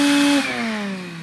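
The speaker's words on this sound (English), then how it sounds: "so I need to actually put my vacuum on there" A vacuum cleaner running in a workshop while a seized engine bolt on a KTM 300 power valve cover is being drilled out, a loud close whine that drops in pitch partway through as the load shifts.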